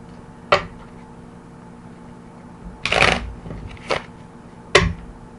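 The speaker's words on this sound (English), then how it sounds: "You just take it, shuffle it up completely randomly" A deck of playing cards is shuffled in several short, crisp riffling bursts. The bursts are separated by quiet pauses, with the longest and loudest riffle in the middle. Close and clear, with no talking.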